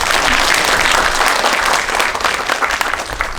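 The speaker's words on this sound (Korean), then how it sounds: "다시 한번 격려의 박수 좀 부탁드리겠습니다." An audience at a residents' meeting about a redevelopment project gives dense, continuous applause that stays loud and steady from start to finish.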